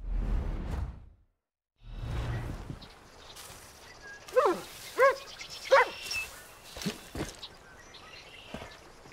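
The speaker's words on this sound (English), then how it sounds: "Nice dog." Dog in Far Cry 5, a few short, sharp barks close by in a quick cluster after a whooshing sound, with quieter game noise around them.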